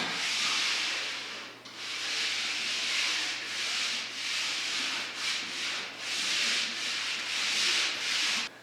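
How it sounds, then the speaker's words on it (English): Screen sanding of an oak floor with 180-grit abrasive gives a steady, close, hissing rub, with brief dips and swells as the sander moves back and forth, and no talking. "So now I'm going to take my 180 grit, and I'm going to"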